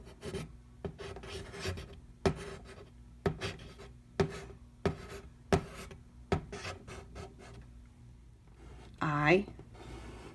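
Rasping pencil strokes of hand-over-hand writing as a teacher guides a student's hand to form words of a sentence, a series of short scratchy bursts, with brief voices in between.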